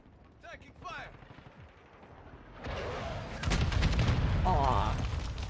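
Gunfire in Call of Duty: Modern Warfare II, starting quiet with distant shots and then swelling into loud sustained automatic bursts and booms in the second half, with a game voice callout early on.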